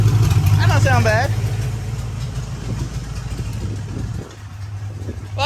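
A demolition derby car engine idles just after starting, with a steady low rumble that runs throughout while people talk over it near the start.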